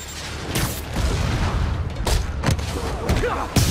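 Rocket blasts in Marvel's Spider-Man game: several sharp booms and crackling bursts land at irregular intervals over a rumbling mechanical bed, moderately loud and close, with voices faintly beneath.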